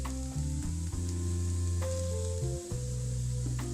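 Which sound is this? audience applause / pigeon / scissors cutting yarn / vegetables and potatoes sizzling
vegetables and potatoes sizzling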